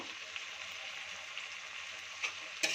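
Spices for a Bengali parshe fish curry with salt and a little Kashmiri chilli frying in oil, a steady soft sizzle with a few light scrapes near the end, close and alone.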